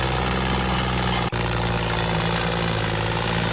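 A tractor engine laboring up a slope, a loud, steady, low-pitched throbbing drone, close and continuous apart from a split-second dropout.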